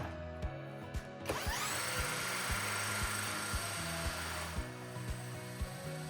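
A battery drill spins an alternator shaft at 1,600 RPM through an Allen head bolt. The whine ramps up early and then holds steady over a regular pulsing thump that keeps going throughout.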